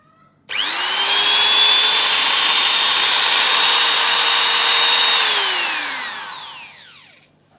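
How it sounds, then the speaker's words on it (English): A Bosch GFK 600 spindle motor spins up sharply, holds a steady high-pitched whine for about five seconds, then winds down with a falling tone, loud and close with no talking. "Functionally, the Bosch unit runs this way."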